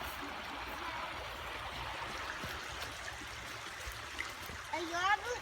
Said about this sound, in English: I'm right down by the river.